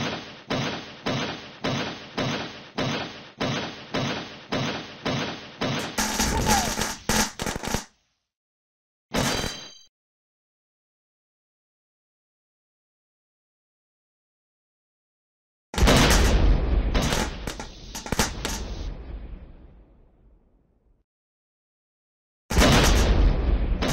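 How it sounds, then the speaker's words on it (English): In the game hotcorn, explosions triggered by flying rock fragments start as a fast run of repeated heavy thumps, then come as loud separate booming bursts between stretches of silence, one trailing off into a long decaying rumble. "even the rock fragments can set off an explosion"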